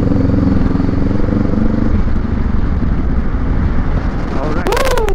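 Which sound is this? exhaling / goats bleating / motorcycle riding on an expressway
motorcycle riding on an expressway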